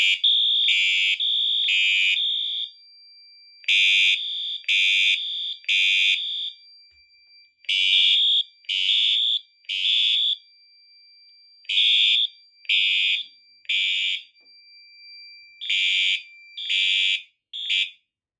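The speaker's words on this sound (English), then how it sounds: "And the alarm is silenced." A building fire alarm system sounds during a test, steady electronic horn tones pulsing in repeated short bursts with brief silent gaps, loud and alone in a quiet room.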